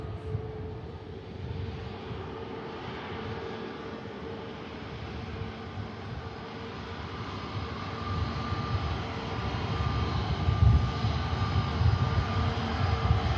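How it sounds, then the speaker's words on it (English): Luxair Dash turboprop departing Manchester Airport, a steady engine drone and broadband roar that builds slowly in loudness toward the end, heard from a distance with no voices. "And the Luxair Dash is going to be the next aircraft to depart."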